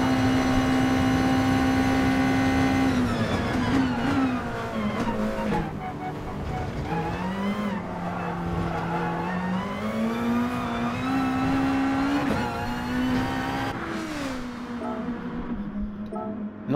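A race car engine in GT Sport at Suzuka Circuit runs loud and steady at a sustained tone, rising and falling with revs and shifts as the car enters the pits.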